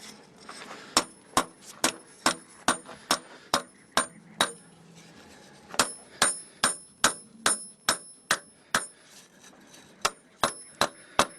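A hammer beats a bevel into a forged camp knife, striking hot steel in a steady series of sharp metallic rings, close and distinct, with a few short pauses between runs of blows.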